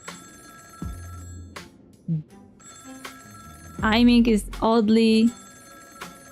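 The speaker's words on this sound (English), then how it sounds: "Oh, phone." A phone rings in Honkai: Star Rail, a repeated electronic tone in short pulses under game music, while someone speaks briefly over it.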